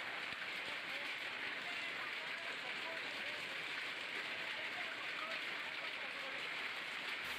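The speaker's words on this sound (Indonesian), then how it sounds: "Hujan deras juga disertai es." Heavy rain mixed with hail pours down during a storm in Malang, East Java, a steady dense hiss of drops hitting surfaces with no break, fairly even and continuous throughout.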